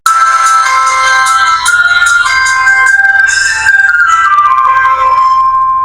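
An Itel IT2181 feature phone plays its startup tone, a bright electronic melody, loud and clear, a chain of rising and falling synthetic tones, with no voices.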